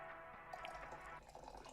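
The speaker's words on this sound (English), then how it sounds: "Gotta pour it in the cup" Liquid poured into a cup, a steady splashing trickle with faint dripping and a brief change in tone partway through, fairly quiet and with no voices.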